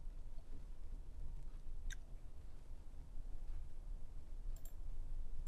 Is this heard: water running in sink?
no